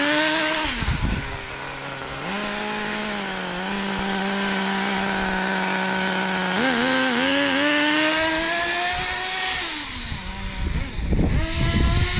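A small high-revving nitro RC car engine buzzes loudly and close for several seconds, its pitch rising and falling as the throttle is blipped, with a loose, flapping exhaust.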